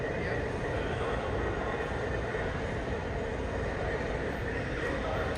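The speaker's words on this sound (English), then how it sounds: "You can hear the diesel engine rumbling from this one." A diesel train engine rumbles at night at a rail spot in Frisco, Texas, a loud, steady, unbroken low drone with a broad wash of noise that holds evenly throughout.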